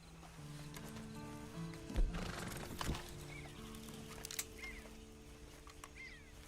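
A horse whinnies close by with hoof clip-clop and movement around it, over a steady tonal background hum; no talk.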